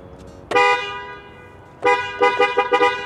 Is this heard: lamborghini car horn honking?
yes